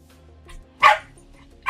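Two sharp, loud dog barks ring out close by about a second apart, with a faint softer yip just before them in an otherwise quiet room.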